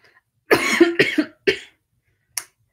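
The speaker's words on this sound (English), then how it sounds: "It's like cold and allergy season, and I keep coughing, and it's terrible." A person with a cold during allergy season coughs in a quick cluster of three harsh coughs, close and alone, followed by a short fourth cough after a pause.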